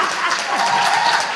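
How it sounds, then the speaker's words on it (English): Brief burst of conference audience applause, a close, full-bodied patter of many hands clapping steadily without pause. "round of applause"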